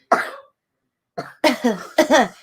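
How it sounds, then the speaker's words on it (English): A burst of harsh coughing, then after a pause a rapid string of several more coughs close to the microphone, loud and chesty. "You're going to cough at everybody."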